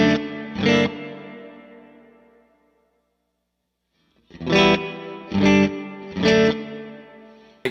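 An electric guitar through an Eventide H90 Hall reverb plays two strummed chords that fade into a long, smooth decay to silence, then three more loud distorted chord hits ring out in a spacious wash.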